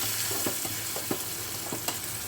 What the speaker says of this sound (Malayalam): വെളിച്ചെണ്ണ ഒഴിച്ചിട്ട് ഉള്ളി മൂപ്പിച്ചെടുക്കുന്നുണ്ട്.